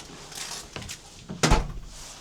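A shoe closet door in an entryway of lodging in Osaka is opened, giving one sharp wooden knock and rattle near the end, preceded by softer faint shuffling handling noises, up close.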